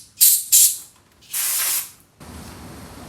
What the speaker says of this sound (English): We're gonna blow some brake clean real quick through these little holes